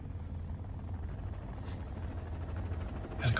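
A helicopter flying in a zombie horror film scene: a steady, moderately loud rotor drone held throughout, with a sharp thump at the end.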